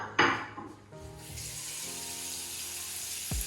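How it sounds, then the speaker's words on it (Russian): Tap water runs steadily into a sink with its drain stopper in, a continuous close rushing hiss after a brief splashy start, with a small clunk near the end and no talk. "И видите, вода набирается."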